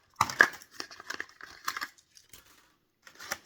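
Plastic and cardboard packaging around a Matchbox-style diecast Chevy C10 toy truck gets torn open by hand. It comes as a quick run of close, crisp crinkles and rips, then a short pause and a final brief tear.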